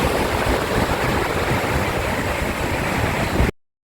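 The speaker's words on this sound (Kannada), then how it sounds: "ಇಲ್ಲಿಂದ ನೋಡಿ ಅಂತೆ ಹೇಗೆ ಅಬ್ಬರ ಉಂಟು ಅಂತ ಅಲೆಗಳದ್ದು." Loud, roaring sea waves crash against the shore in a steady, continuous surge that stops abruptly near the end.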